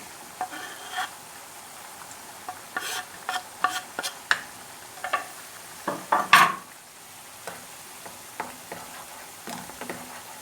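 Garlic frying in a pan with tomato sauce, with soft bubbling and intermittent sharp stirring clicks and scrapes that cluster into a louder burst partway through, close by and without talk.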